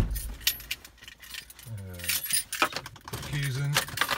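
Car keys jangle and rattle as they are pushed into the ignition of a Honda CR-V, a few close metallic clinks mixed with faint low tones and light handling noise.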